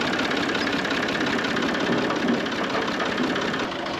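A tractor engine idles steadily on a slope during brake testing, a loud, close, continuous mechanical drone with a faint knocking rhythm and no change throughout.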